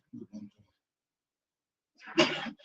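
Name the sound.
sneeze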